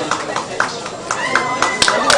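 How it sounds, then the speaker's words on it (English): Scattered clapping from colleagues at an office Cultural Diversity Day celebration, individual claps audible over a loud voice talking and background music. "round of applause for them, everyone."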